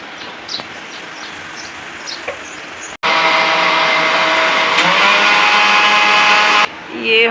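A blender whirs loudly and steadily for several seconds while making a melon shake, starting abruptly after a quieter stretch and cutting off near the end.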